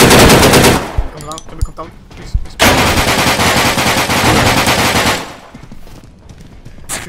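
Sustained bursts of machine-gun fire in the online shooter Deadside at a military base, rapid loud close volleys with short pauses, someone briefly speaking between the bursts.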